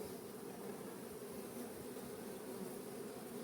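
Honey bees hum steadily in an open beehive while its frames are inspected, a continuous, even drone of many bees that stays faint and unbroken throughout.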